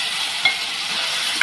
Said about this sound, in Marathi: हे आपण परतून घेऊया व्यवस्थित असं।